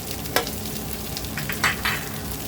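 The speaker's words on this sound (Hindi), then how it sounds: "अभी अच्छे से भुनेंगे इसको।" Spices frying in a pan for chicken spring roll filling, a steady close sizzle with a few brief stirring scrapes and spatula knocks, no talk.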